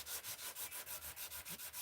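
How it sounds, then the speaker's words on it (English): Hand sanding a knife blade with sandpaper wetted with Windex, heard as a steady rhythm of about ten close, even back-and-forth rubbing strokes with no talking. "final hand sand finish, I think the Windex helps kind of even everything out and get it real nice, even scratch pattern"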